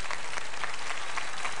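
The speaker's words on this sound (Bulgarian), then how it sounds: "Аплодисменти за него." Studio audience applause on a Bulgarian television show, a steady dense clapping filling the whole moment with no talk over it.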